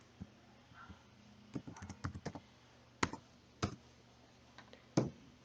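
Someone types a new file name for a database on a computer keyboard: scattered light key clicks, a quick burst of taps, then a few spaced single presses, close and clear.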